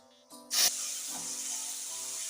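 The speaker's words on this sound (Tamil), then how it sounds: "வெங்காயம் தக்காளி போட்டு வணக்கிட்டு இருக்காங்க" Onions and tomatoes hit hot oil for chicken biryani with a sudden loud hiss, then settle into a steady, moderate sizzle under a faint background hum.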